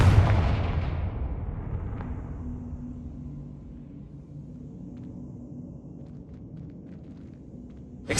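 Confringo blasting-spell explosion in Hogwarts Legacy: a loud boom at the start that rolls off into a long fading rumble, with a faint low hum lingering and a sharp hit at the very end.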